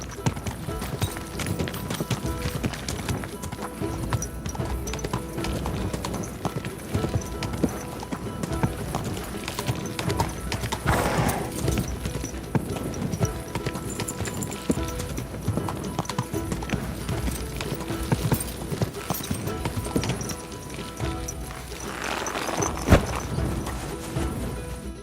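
Horse hooves clip-clop steadily and continuously in Kingdom Come Deliverance II, a fast even gait that carries through the whole stretch, with a faint neigh and occasional other game sounds mixed in.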